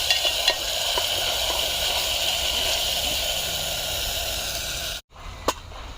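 A paste of ginger, garlic, chili, coriander and tomato fries over a wood-fired stove, giving a continuous close sizzle and hiss. It breaks off briefly near the end, then a sharp click follows.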